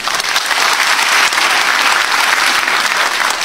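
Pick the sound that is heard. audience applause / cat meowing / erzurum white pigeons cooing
audience applause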